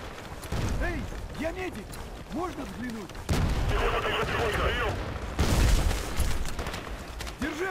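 Rapid automatic gunfire in the online shooter Battlefield Play4Free, from an LSAT rifle firing around 900 rounds per minute, with dense bursts and heavy booms over battle noise while someone speaks German.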